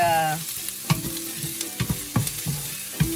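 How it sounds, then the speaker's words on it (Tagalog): Food sautéing in a pan with tomato and garlic, a steady close sizzle broken by several scraping stirs of a utensil, no talking. "But I need to saute first."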